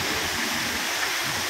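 Puliyuthu Aruvi waterfall near Bodimettu on the way to Meghamalai pours in a loud, constant broadband rush of falling water, close by and with no voices.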